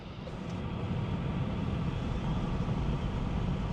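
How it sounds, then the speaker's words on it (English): Wind buffeting a microphone outdoors at night in Wisconsin as a shelf cloud approaches, a steady low roar that swells slightly and fills the whole stretch without other clear sounds. "the wind noise is too loud"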